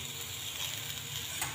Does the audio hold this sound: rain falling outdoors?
no